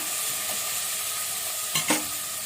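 Tomatoes and onions sautéing in a pan for vegetable biryani, a steady close sizzle with a brief clatter of stirring near the end.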